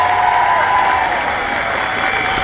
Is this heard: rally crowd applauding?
yes